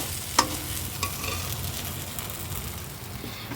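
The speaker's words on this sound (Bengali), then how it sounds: "আমি পরিমাণ মতো লবণ হলুদ ধনে জিরের গুঁড়ো এগুলো দিয়ে ভালো করে কষিয়ে নিচ্ছি মশলাটাকে" Spice paste with salt, turmeric, coriander and cumin powders sautés in a pan, a soft continuous sizzle with a couple of brief spoon clinks near the start, close and fairly quiet, no voices.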